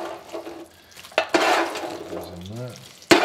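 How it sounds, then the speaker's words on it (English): Potatoes sizzle and crackle in a hot pan at low volume, with a few sharp clatters of a utensil against the pan. "Those in there. Sizzling away."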